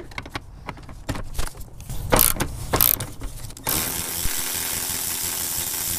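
Ratchet wrench on a long extension backing bolts off a car air box during power steering service, giving a few bursts of quick clicking ratchet strokes with metallic knocks, followed by a steady mechanical whir.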